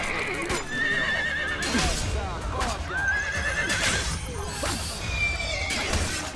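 Horses neigh and whinny repeatedly in Assassin's Creed: Brotherhood, with clip-clopping hooves, clashing combat hits and constant game noise underneath, loud and close throughout.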